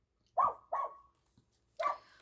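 A single dog barks three times indoors, two sharp barks in quick succession then a pause before a third, loud and close with no talk over it.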